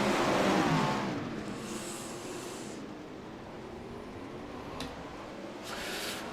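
Wingless sprint race cars roar together on a restart at Fairbury, a loud, dense engine rumble that swells at the start, then holds steady as the pack pulls away across the dirt track.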